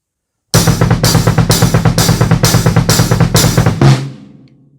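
A drum kit plays a steady beat at concert speed, with bass drum and hi-hat pulsing in evenly spaced, loud, close bursts for several seconds before the last hit rings out and fades.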